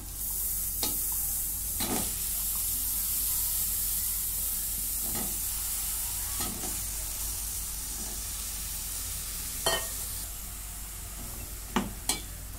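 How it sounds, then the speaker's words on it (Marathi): Slit brinjals sauté in a hot oiled pan for masala vange, a steady sizzle running throughout with a few sharp clinks of a spoon scraping and stirring at intervals. "आता ही वांगी मी अशी चिरा करून घेतलेली आहे, ती टाकून घेते"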